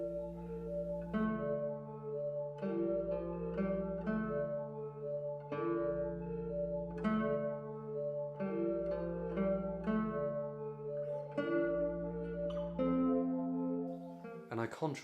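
Church organ and guitar in a redundant church play a melancholy Spanish-style theme, with organ bass notes sustained under repeated plucked chords, steady and moderately quiet in a reverberant space.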